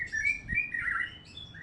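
A white-rumped shama chirps and twitters in a rapid, bright warbling phrase, fairly close and clear, without any talking.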